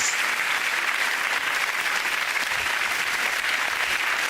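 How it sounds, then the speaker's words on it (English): A studio audience at a comedy panel show applauds, a loud, dense, sustained wash of clapping that fills the whole stretch without any voices. "Give them all a round of applause, ladies and gentlemen."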